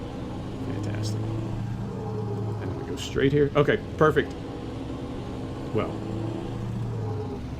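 A Scania truck engine in Euro Truck Simulator 2 drones steadily at a low, even pitch throughout, with someone talking over it in bursts while driving onto a highway.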